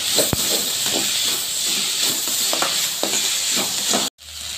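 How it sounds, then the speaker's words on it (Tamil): Ginger, garlic and tomatoes sauté in a hot pan with a loud, steady sizzle and hiss, broken by an occasional scrape of stirring, before the sound cuts off abruptly. "இதை வதக்கிட்டு இப்போ தக்காளி, தக்காளி போட்டு நல்லா வதக்கிட்டாங்க."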